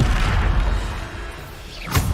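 A Bombarda spell explosion in the video game Hogwarts Legacy: a deep, rumbling boom fades over a second or so, followed by a brief sharp burst near the end.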